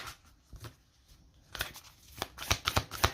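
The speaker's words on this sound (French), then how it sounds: "on va poser les cartes." Tarot cards shuffled and laid down on a table, a few soft flicks at first, then a denser run of crisp card snaps and slaps close by, with no talking.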